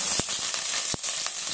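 Tempering seeds of cumin, mustard and chana dal with chopped green chillies splutter in hot oil. A steady close hiss carries sharp scattered pops, with no voices.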